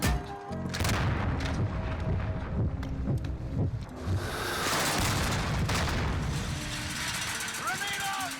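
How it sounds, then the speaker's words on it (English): A Call of Duty multiplayer match with a cruise missile strike: heavy booms and rolling gunfire thunder through the clip, a rising whine near the end, and voices speaking over the battle. "Allied cruise missile launched."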